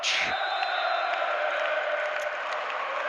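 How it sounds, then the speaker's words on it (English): Volleyball crowd cheering and roaring after a powerful PAOK spike wins the first point, a loud sustained wall of cheers, whoops and applause that stays full throughout. "And you hear already, that will get the crowd fired up."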